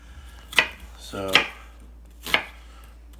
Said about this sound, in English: You're going to be chopping a lot of onions over your life if you like to cook.